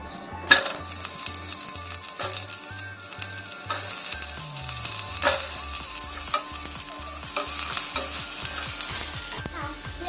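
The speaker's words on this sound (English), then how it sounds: "we will be pouring some oil in the pan, and with that we are going to add some curry leaves, and along with that we are also going to add some onions" Curry leaves and onions frying in oil in a pan for chana masala, a steady bright sizzle with stirring scrapes, heard alone beside a rhythmic music track playing throughout.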